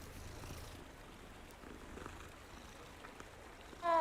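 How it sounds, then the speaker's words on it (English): A cat in the Hogwarts Legacy video game purrs, a faint low rumbling that continues steadily, with a brief louder sound at the very end. "Literally a cat."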